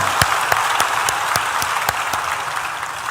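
A church congregation applauds God at the close of a Spanish-language sermon on the church in crisis, a dense, steady wash of clapping with a few sharper single claps standing out, fairly loud and continuous throughout.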